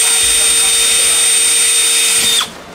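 A power drill bores a hole in a plastic drain pipe while a water purifier is installed. The drill whines steadily and loudly with a high, even tone, then cuts off abruptly near the end.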